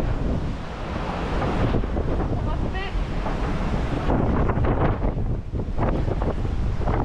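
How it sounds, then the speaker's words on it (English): A strong 40-knot wind at sea during the Globe 40 round-the-world sailing race, loud continuous buffeting into the microphone with rushing water and waves around the boat, and a voice faintly heard beneath it. "the 40-knot conditions switched on in a matter of minutes, going from the 20s to the 40s"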